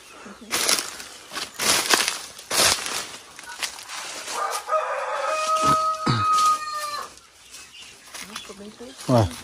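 Chickens cluck and a rooster crows around a rural property being fenced, with the crowing rising in the middle of a busy, fairly close mix of farmyard bird calls while people talk.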